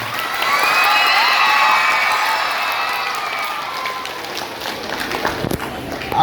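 Loud crowd cheering and applause at a school gathering, a broad sustained roar with children's shouts that swells early and slowly fades.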